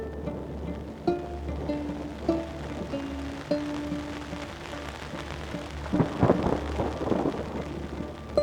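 Rain patters steadily while low thunder rumbles in the distance, swelling into a heavier rolling rumble toward the end, with a few sharp tonal tones early on.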